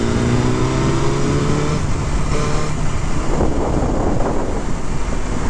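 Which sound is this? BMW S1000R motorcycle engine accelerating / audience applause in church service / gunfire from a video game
BMW S1000R motorcycle engine accelerating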